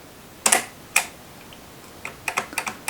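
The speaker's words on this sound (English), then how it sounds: "if we turn the film advance, you can hear it click" Film advance lever of a Zeiss Ikon Nettax camera being wound, producing a few crisp mechanical clicks, then a quicker run of small ratcheting ticks, close up in a quiet room.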